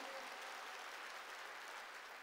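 A church congregation claps together during a sermon, a steady, dense wash of applause that holds at an even level for about two seconds.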